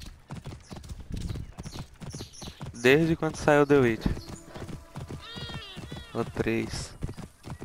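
Horse hooves clip-clop in Assassin's Creed Origins on PS4, a steady trotting rhythm running through the whole stretch, heard under someone talking and some game voices, with a brief whinny-like call.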